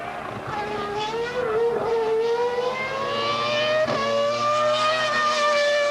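Onboard view of a racing car at full throttle on a circuit cresting a hill into a corner, with a loud, steady, high-pitched engine howl rising through the gears, brief dips at gearchanges, on cold tyres.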